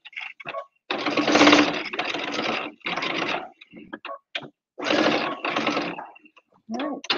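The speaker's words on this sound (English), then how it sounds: "And reverse stitch." A sewing machine reverse stitching through the several quilted layers of an apron, running in short bursts of rapid mechanical stitching separated by brief pauses.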